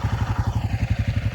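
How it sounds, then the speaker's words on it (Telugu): Motorcycles idle after starting at dawn on a ride to the Vanjangi viewpoint near Araku, their engines thumping in a steady, even rhythm, loud and close with no voices. "బైక్స్ ఇప్పుడు స్టార్ట్ చేసి పెట్టాము."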